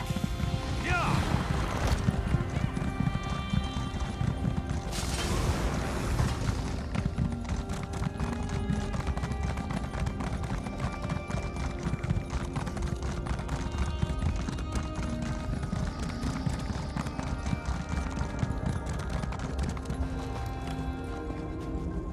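Horse hooves galloping in an even, rapid rhythm as a rider moves across open ground in the fantasy game Elder Scrolls Online, near and constant for the whole stretch, with a whinny and a brief rush of movement early on.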